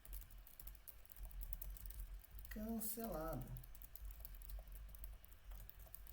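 Close, rapid clicking of a computer keyboard as someone types code in Excel VBA, soft irregular keystrokes continuing throughout the clip, with a single spoken word briefly heard in the middle.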